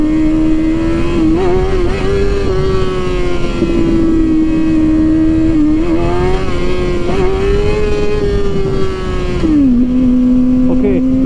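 Engine of a 138 PS vehicle held at half throttle drones loudly and steadily for several seconds, with slight pitch wavers and a brief dip near the end.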